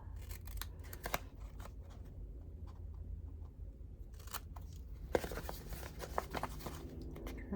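Scissors trim a paper envelope, with a few close crisp snips and rustling paper, a quieter stretch in the middle, then denser cutting and handling near the end.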